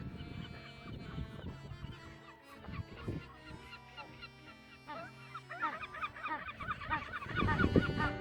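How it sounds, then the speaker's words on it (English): Colony of Magellanic penguins alongside seagulls on Magdalena Island, a dense chorus of overlapping honking, braying calls and gull cries, busy and continuous, with louder bursts near the end. "We walked among an immense colony of Magellanic penguins that coexist peacefully with seagulls."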